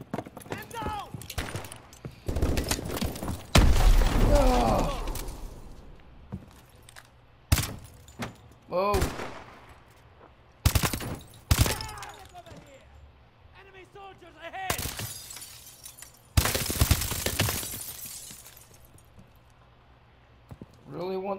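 Gunfire in the Advanced Warfare video game, loud bursts and single shots spaced irregularly between quieter stretches, with game voices and chatter heard in between.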